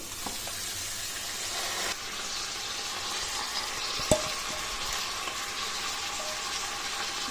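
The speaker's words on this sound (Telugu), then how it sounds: "పెసరపప్పు కాస్త వేగిన తర్వాత మనం కట్ చేసి పెట్టుకున్న ముల్లంగి ఆకులను వేసుకోవాలి" Moong dal frying in a pan with chopped radish leaves added, giving a steady broadband sizzle throughout with a brief clink near the middle and no voices.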